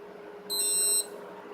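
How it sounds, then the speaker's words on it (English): A multimeter continuity beep while repairing an NES controller: a single shrill electronic beep, steady and high-pitched, lasting about half a second against a quiet background hum. "the multimeter will make a sound telling you that there's a circuit"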